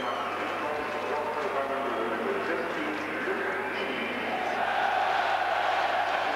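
Stadium crowd at a 1991 Belgium v Germany European Championship qualifier applauding as a substitute comes on, a broad sustained roar of clapping and cheering that swells toward the end, steady and fairly loud throughout.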